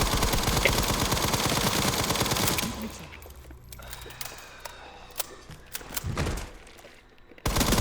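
Gunfire in the Resident Evil Requiem video game, a rapid burst of loud repeated shots for the first few seconds, then quieter scattered clicks and thuds before another loud burst at the very end.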